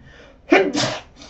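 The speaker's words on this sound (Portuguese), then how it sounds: "Tava com esse espirro preso, é muito ruim." A single forceful sneeze bursts out close by after a brief inhale, followed by a short trailing breathy sound in an otherwise quiet room.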